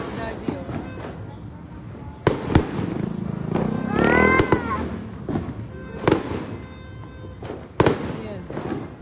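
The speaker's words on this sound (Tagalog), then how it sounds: "Wow, ang ganda ng fireworks sa Daddy." Loud fireworks bang and crackle repeatedly at irregular intervals, with sharp booms standing out over a background of voices.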